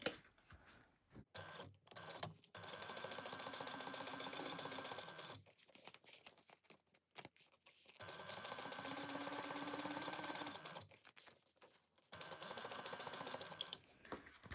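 A sewing machine top stitches a fold-over fabric piece in several sustained runs of rapid whirring needle clatter, separated by pauses, quiet and close.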